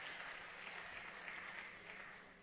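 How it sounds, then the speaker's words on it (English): Faint, steady applause from a university event audience honoring panel guests, a soft continuous wash of many hands clapping at a distance. "A round of applause for them."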